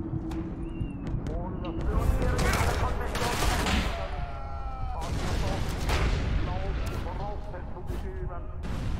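Gunfire in the War Mongrels video game, repeated shots and bursts running through the whole stretch amid game effects, with voices talking over the combat.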